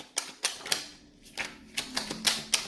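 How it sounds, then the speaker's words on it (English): Crisp, rapid riffling snaps repeat in short bursts, close and fairly quiet, as a deck of tarot cards is shuffled, with no voices. "I'm going to do 3 more shuffles for the Twin Flames."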